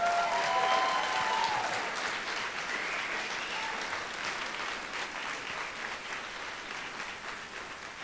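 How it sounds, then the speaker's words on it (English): Audience applause for Leah Penniman after her talk on ending racism in farming and food, a steady wash of many hands clapping that holds at a fairly even level, tapering slightly toward the end, with no voices over it. "Can I have another round of applause,"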